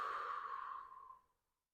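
A long, slow exhale during diaphragmatic belly breathing, a soft breathy rush of air close to the mic that gradually fades out to silence.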